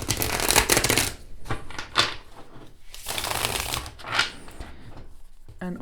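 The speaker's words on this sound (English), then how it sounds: "I can manage shuffling it really well" A thick, stiff cardstock tarot deck being shuffled, giving bursts of riffling card noise separated by short pauses, close up.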